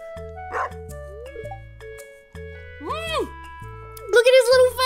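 Dog bark sounds from a Stardew Valley Expanded cutscene, with short yips over a looping game music melody. The barks come in brief bursts, loudest near the end.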